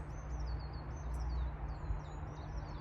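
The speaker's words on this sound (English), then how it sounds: "Just to be down here listening to the birds, peace and quiet." Birds sing and chirp faintly at a sunny allotment, thin high calls scattered throughout over a steady low rumble of background noise.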